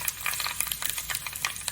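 Mustard seeds, cumin and dried chilli splutter in hot sesame oil, a dense run of sharp crackles and pops close up, with no talk.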